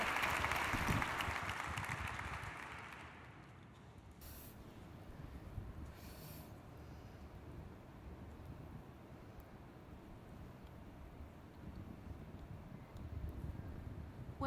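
Audience applause welcoming Secretaries Shaun Donovan and Kathleen Sebelius at a housing keynote conversation, a dense clapping wash that is loudest over the first three seconds, then fades into a steady murmur of room noise.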